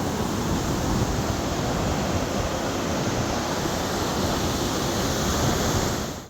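Cold mountain stream water on a Himalayan trek to Madhmaheshwar rushes in a loud, steady, broadband roar, close and unbroken throughout, with no voices.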